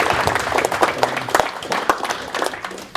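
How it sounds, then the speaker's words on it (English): An audience at a Tech Alley Henderson meetup talk gives a round of applause: dense, continuous clapping from many hands, close and loud for the whole stretch. "There's a round of applause."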